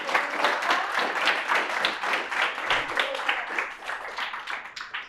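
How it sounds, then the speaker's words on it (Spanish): Sustained audience applause in a talk by a neuroscientist studying flies, steady dense clapping throughout with some voices mixed in. "un fuerte aplauso otra vez"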